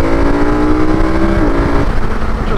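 Motorcycle engine revving hard under quick acceleration, a strong steady drone with rising pitch broken by a brief dip as a quick-shifted gear change goes through, loud and close throughout.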